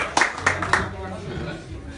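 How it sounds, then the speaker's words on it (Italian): A few sharp hand claps greeting a poet before a recital of dialect poetry at a dinner gathering, three distinct loud claps in quick succession that quickly fade into the room. "Un applauso."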